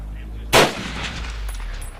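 A single loud gunshot during outdoor shooting practice in the grass: one sharp, close crack that decays quickly over a steady low background hum.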